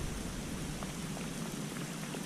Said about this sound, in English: Hear that rain starting again.